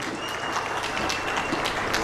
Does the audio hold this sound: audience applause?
yes